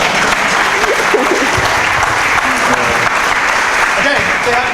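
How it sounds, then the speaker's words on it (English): An audience claps steadily after a short conference talk, a dense even wash of applause filling the room with faint voices mixed in. "Give him an extra few seconds of applause."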